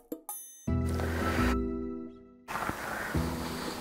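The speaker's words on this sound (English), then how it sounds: "let's check it and stir it a little more" Venison enchilada filling stirred in a pot, with clinks of a utensil against the pot and soft wet squishing, broken by pauses, and loud continuous hum and rumble underneath.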